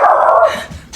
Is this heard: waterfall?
no